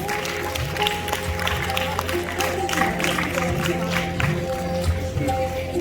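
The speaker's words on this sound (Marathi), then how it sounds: "सर्वांनी त्यांनी टाळ्या वाजवून त्यांचं अभिनंदन करायचं, त्यांचं स्वागत करायचं" An audience at a school prize distribution in North Zone Mumbai applauds to welcome a guest, a steady spread of clapping with murmuring voices and a low hum underneath.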